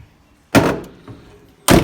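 Two solid clunks of a Chevy Luv's doors shutting, the first near and loud with a fainter knock between, then a second heavy thud about a second later, with no voices.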